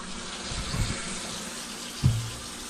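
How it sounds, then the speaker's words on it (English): Water runs steadily from the drain of an electric water heater, a constant close hiss with a couple of small gurgling splashes. "our water is finally running nice and clear"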